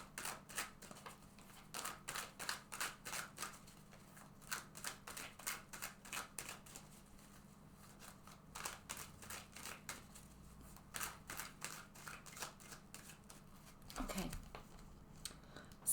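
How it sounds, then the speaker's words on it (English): A deck of tarot cards is shuffled several times, giving bursts of quick papery riffling and clicking in an uneven rhythm. The shuffling is quiet and close, with a soft hum underneath. "let's first of all shuffle this deck several times"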